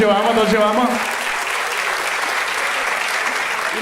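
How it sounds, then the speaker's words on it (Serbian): A stand-up comedy show audience breaks into sustained applause for a comedian, a dense clapping wash. A voice is heard briefly at the start. "Dajte veliki aplauz za Rusina"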